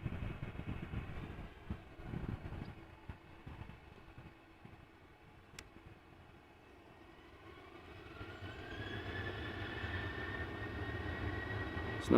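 A KLM Embraer E295 passes almost directly overhead near Amsterdam Schiphol Airport, its jet roar faint at first and then steadily building as it nears.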